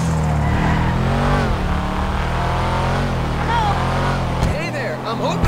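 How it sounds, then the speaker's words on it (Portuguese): A Subaru's engine revving in the GTA V video game, loud and continuous with a raspy, rising and falling tone, while a voice talks over it at times. "Ele tem um som, para quem conhece o Subaru na vida real, olha isso"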